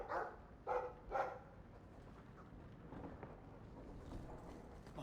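A dog in the video game Dragon Age II barks about three times in quick succession near the start, then quiets, leaving a soft ambient background with no speech.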